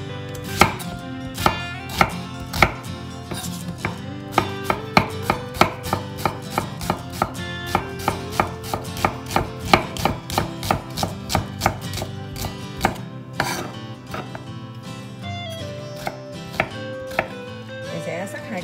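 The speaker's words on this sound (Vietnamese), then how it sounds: "Bây giờ Tiền sẽ bằm tỏi với hành" Garlic and onion being minced with a knife on a board for braised duck with fermented tofu, a steady run of crisp, evenly spaced chops heard close up over continuous background music.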